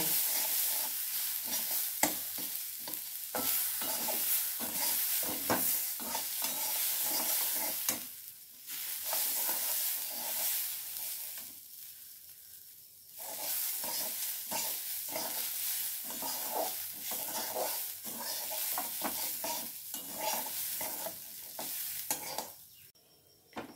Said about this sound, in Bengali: কাঁচা ডাল তো, সামান্য একটু নাড়াচাড়া করে এই ডালটা